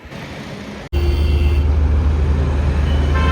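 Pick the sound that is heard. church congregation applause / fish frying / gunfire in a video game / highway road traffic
highway road traffic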